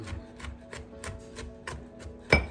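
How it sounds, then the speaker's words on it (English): A knife chops food on a board for holiday cookie dough, about eight even, close taps in a steady rhythm, ending in one louder knock. "that's about as fine as I'm going to chop mine"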